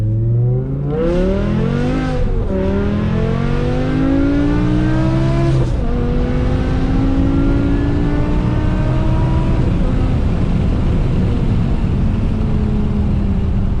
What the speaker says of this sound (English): This car is launch control, but I feel like I'm breaking stuff on every time I hit it.